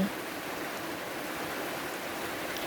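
Steady rain hisses evenly and continuously, a soft broad wash of sound with no voices and no breaks.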